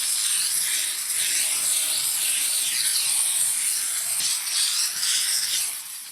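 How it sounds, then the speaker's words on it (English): A steam cleaner purges water during bathroom deep cleaning, giving off a continuous bright hiss and spray with slight wavering surges over about six seconds, with no talking. "Always remember the first time you steam, you're going to need to purge the water out of the machine"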